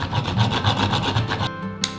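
A blade saws and rasps through a piece of wax-soaked fatwood fire starter, quick rhythmic back-and-forth scraping strokes up close, ending in a brief pause and one final scrape.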